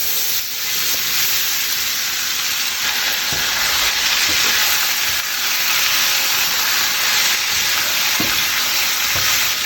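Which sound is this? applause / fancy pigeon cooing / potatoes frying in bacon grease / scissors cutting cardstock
potatoes frying in bacon grease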